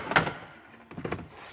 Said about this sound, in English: And then your door panel's released.